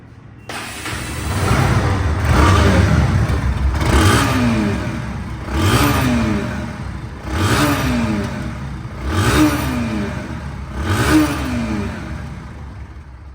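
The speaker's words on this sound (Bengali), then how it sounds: "বাইকটি রানিং অবস্থায় আছে দেখেন রানিং অবস্থায় সাউন্ডটা কত স্মুথ" A second-hand Bajaj Pulsar NS 160 motorcycle engine idles and is revved repeatedly, with about six rising and falling blips at a steady rhythm, loud and close, no talking.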